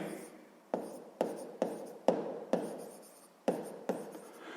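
Math solution being written by hand on paper, a pen scratching in repeated short strokes that start sharply and trail off, close and alone without talk.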